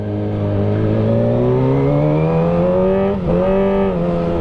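A Kawasaki ZX-25R motorcycle engine revs up close and loud, its pitch climbing steadily, dipping briefly as if shifting, then rising again.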